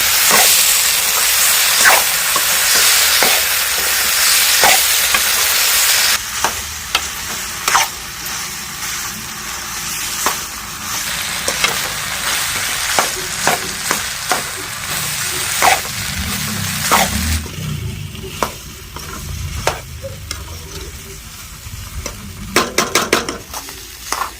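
Potato and broad bean (sem) sabzi frying in a pan, with a loud hissing sizzle at first, then repeated spatula scrapes and taps as it is stirred, near and without speech.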